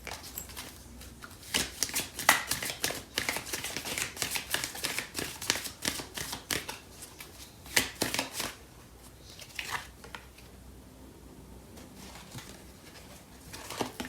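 Starseed Oracle cards are shuffled by hand in a series of crisp riffling bursts and soft flutters, close and fairly quiet, with no talk.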